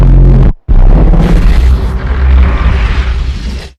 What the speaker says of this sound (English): Explosions, blaster fire, and lightsaber battles jump right off the screen.